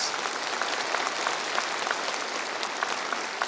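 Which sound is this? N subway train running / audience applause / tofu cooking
audience applause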